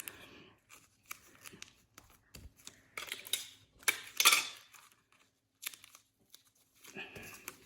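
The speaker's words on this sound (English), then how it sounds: "you just tape your stick to the palm branch" Tape torn off a roll to fix a stick onto a palm branch: quick, crisp ripping and crinkling bursts in an otherwise quiet room, the loudest tear near the middle.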